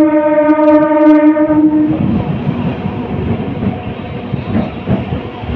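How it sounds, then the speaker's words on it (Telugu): A MEMU passenger train pulling out of Ramavarappadu station, starting with a loud sustained horn blast that gives way to the rumble and clatter of the moving carriages, close and steady. "ట్రైన్ అయితే రామవరపాడు స్టేషన్ నుండి అయితే బయలుదేరిపోయింది"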